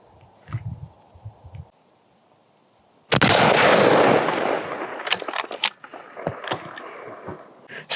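A single loud rifle shot fired offhand during a hunt cracks out sharply after a quiet stretch, followed by a long rolling echo that decays over several seconds outdoors.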